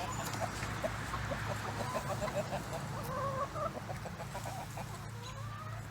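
Chickens cluck steadily while eating in a spring garden, several birds close by with overlapping clucks and short calls over a constant low background hum, no speech.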